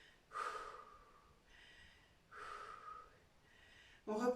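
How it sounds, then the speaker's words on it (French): Heavy breaths after an oblique-focused interval workout, two long gasping inhale-exhale cycles that are close and fairly loud, followed by a short burst of a voice at the end. "On reprend son souffle."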